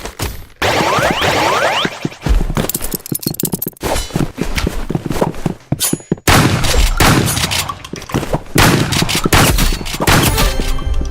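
Rapid bursts of gunfire with metallic clangs and impact dings in the video game Marvel Rivals, loud and close, firing in clustered volleys with brief pauses.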